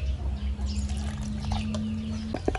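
Water trickles and splashes steadily as it is poured over turmeric being crushed for a Cambodian crispy rice pancake batter, a soft close liquid sound with a few brief drips near the end.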